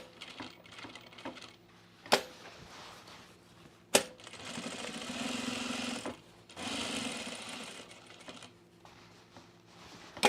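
Sewing machine stitching thick overalls fabric, rapid needle runs of a second or two separated by sharp clunks and pauses, close and fairly loud.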